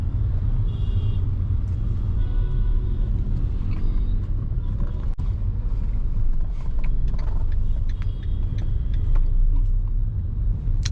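A car crawls through heavy stop-and-go traffic in second gear without the clutch. Its low engine and road rumble is continuous and close, and faint surrounding traffic and a brief mechanical click are heard, with no speech.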